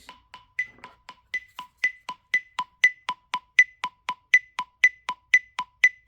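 Steady metronome clicks tick evenly, close and clear, with accented beats in a higher pitch recurring among the regular lower clicks.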